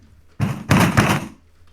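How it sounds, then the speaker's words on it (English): Banging on a door: a burst of loud, close, heavy thuds, one blow followed by a quick cluster of pounding, then quiet, with no voices. "Your door is gonna break if you don't answer it."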